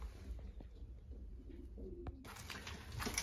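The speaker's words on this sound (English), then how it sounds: "Now we're gonna feed the birds, and then it's done." Belgian racing pigeons coo softly in a breeding-season loft, with low, repeated burbling calls close by and a burst of rustling near the end.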